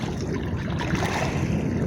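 Big Pacific Ocean swells wash steadily around a small fishing boat far out at open sea, a continuous rough rush of water with no voices.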